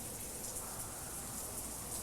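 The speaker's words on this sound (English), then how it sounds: "We've had enough rain for one day." Steady rain falling, a dense even patter and hiss across the whole stretch, no talking.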